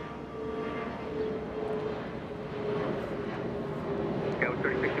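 A FedEx MD-11 jet at Los Angeles International Airport, a steady distant engine roar holding evenly under a voice talking nearby.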